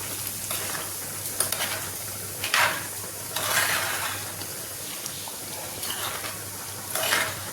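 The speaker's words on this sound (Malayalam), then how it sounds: "നല്ലതുപോലെ ഒന്ന് ഇളക്കി കൊടുക്കും" Intermittent scraping and clinking of a spoon stirring kootu curry in a clay pot, in short bursts with a low steady hum underneath and no voices.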